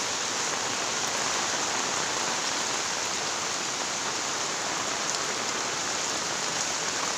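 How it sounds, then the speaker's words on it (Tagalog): Heavy rain pours down steadily and loudly, a dense, unbroken wash of drops hitting surfaces with no voices over it. "Ang lakas talaga ng ulan, guys."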